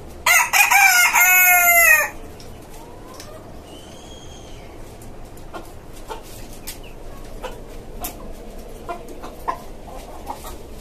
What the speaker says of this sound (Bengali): এই আর একটা আমার টাইগার মোরগ